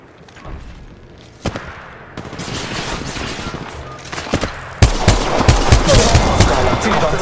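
Gunfire in the mobile version of Apex Legends, with rapid automatic bursts and heavy booms that grow denser and louder toward the end.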